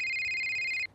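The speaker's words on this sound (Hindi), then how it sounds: "टेलीफोन की घंटी ने सारे विचारों को तोड़ गिराया।" A telephone rings with a bright electronic trill, a single short burst of about one second that cuts off abruptly, fairly clear and alone.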